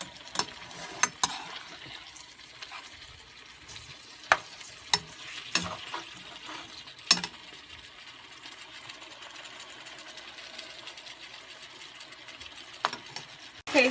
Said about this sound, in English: And I'm going to let that brown even more.